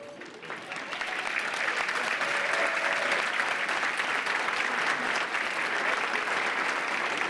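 Students at an awards ceremony break into loud, sustained applause that swells within the first second and holds steady as a dense, even roar of clapping, with faint voices underneath.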